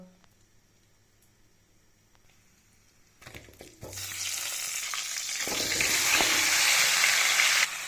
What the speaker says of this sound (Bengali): এখন ফ্রাই করে নেব আলু আর ফুলকপি